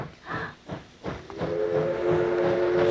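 A steam train passes with a few puffing chuffs before its steam whistle sounds a long, steady, loud blast that holds to the end.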